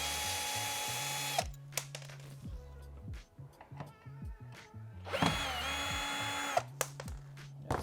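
A power drill backs out two screws from the bottom of a Fisher & Paykel tumble dryer: loud, close whirring bursts that start and stop repeatedly, with brief ratcheting clicks and handling noise between runs.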